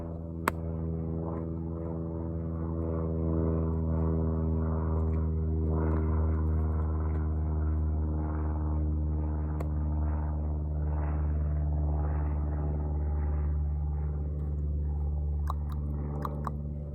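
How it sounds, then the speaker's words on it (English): Loud, steady low drone of an airplane flying overhead, lasting the whole stretch with little change in level, a few faint clicks on top and no talking. "Let me wait for the airplane noise for just a little bit because it's pretty loud for me right now"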